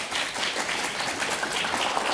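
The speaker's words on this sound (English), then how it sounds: "Please give a round of applause." A conference audience greets a talk on an AI model for biology and healthcare with continuous applause, many hands blending into an even, moderately loud patter with no speech over it.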